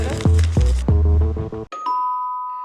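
A doorbell chimes once with a bright two-tone ding-dong that rings out and decays alone, after a short burst of thumping, bouncy sounds.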